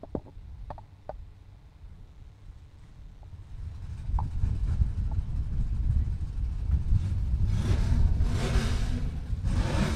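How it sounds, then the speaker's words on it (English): Race car engines start at a dirt-track event for Southern Sport Mods. A low rumble builds steadily into a dense, rising roar of many engines revving together, with a few clicks early on. "Gentlemen, start your engines."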